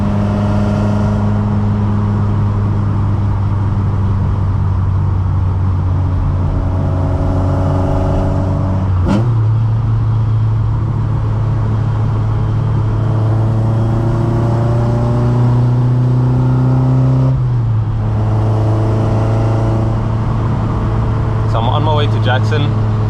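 A tuned Mk2 with an ITB 16v engine, Pipercross filters and a baffled sump drones steadily from inside the cabin while driving, with two clear gear shifts and the engine note rising between them, loud throughout.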